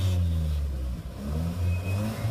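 A modified Suzuki Baleno with a 2-inch custom resonated exhaust and Borla Spitfire-inspired end can idles and revs, a steady deep engine drone that dips briefly then swells again, close and loud.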